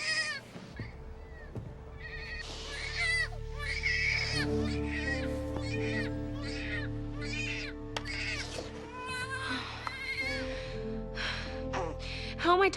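An infant cries in a dramatic television scene, with repeated wailing bursts and gasps over a sustained musical score.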